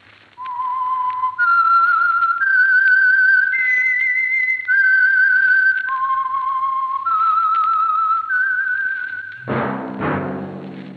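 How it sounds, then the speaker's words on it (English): A clear, melodic whistled tune with steady held notes stepping up and down, loud and close, ending in a sudden burst of orchestral music. "that whistle is your signal for the Signal Oil Program"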